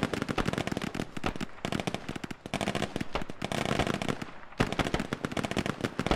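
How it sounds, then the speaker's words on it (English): Heavy gunfire in the military shooter game Squad during a river crossing assault, with dense, rapid automatic bursts and cracking shots overlapping continuously, close and loud. "Ooh, there's a lot of fire. Landing very close."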